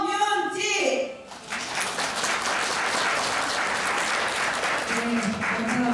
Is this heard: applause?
yes